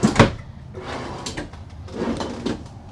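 Bathroom drawers in a 2025 Keystone Alpine Avalanche Edition RV slide and knock shut, several soft wooden clunks and rolling scrapes close by at an uneven pace.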